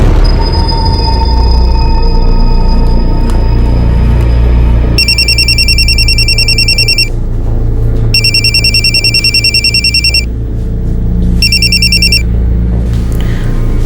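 A telephone rings in an indoor setting with three bursts of a bright electronic ring, each about two seconds long and separated by short pauses, heard clearly over a low steady hum.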